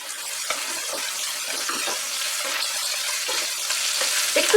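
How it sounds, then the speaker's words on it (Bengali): Cauliflower florets with a little turmeric fry over medium heat for a cauliflower korma, a steady, close crackling sizzle with faint stirring clicks, with no voices. "মাঝারি আঁচে ফুলকপিগুলোকে ফ্রাই করে নেব"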